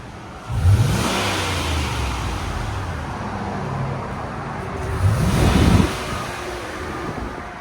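A stock 2005 Lexus GX 470 4.7L V8 exhaust revs up twice, a few seconds apart, each burst swelling and fading under steady wind buffeting the microphone.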